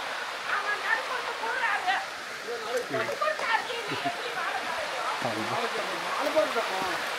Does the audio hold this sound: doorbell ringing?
no